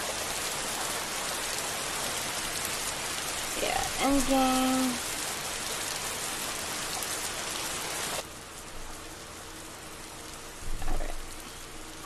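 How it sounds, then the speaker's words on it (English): Steady rain hisses in the Bloxburg video game as a loud, even wash. A voice speaks briefly over it midway, then the rain cuts off abruptly, leaving quieter background with a short spoken word near the end. "I may have to turn off the rain"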